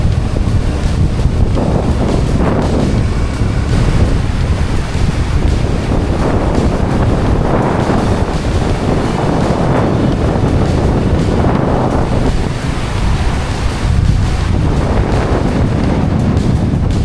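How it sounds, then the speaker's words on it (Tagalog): Strong wind roars across open sea at Siquijor, buffeting the microphone continuously as waves surge loudly underneath for the whole stretch, with no voices heard. "Lakas ng hangin."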